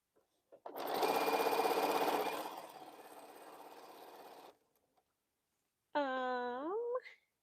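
Sewing machine stitching a quilt, running steadily for about four seconds with a close, even mechanical whir that slows and stops, followed by a brief rising electronic beep-like tone.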